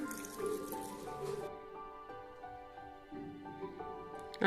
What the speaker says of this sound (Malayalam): വളരെ കുറച്ച് വെള്ളം ഒഴിച്ചു കൊടുക്കാം.